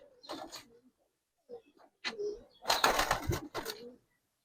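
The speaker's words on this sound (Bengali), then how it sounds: "হাই ফিলার কবুতর" A high flyer pigeon cooing close by in a bird market, several short throaty bursts separated by pauses, the loudest run of coos near the end.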